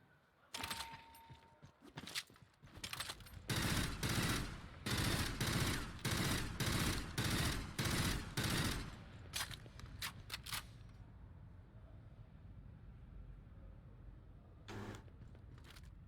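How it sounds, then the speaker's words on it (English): Burst rifle fire in the video game Aliens: Fireteam Elite comes in a loud, evenly spaced run of sharp shots, followed by a few scattered single cracks and then a quieter tail with one more distant pop. "Burst rifle. How does this fire?"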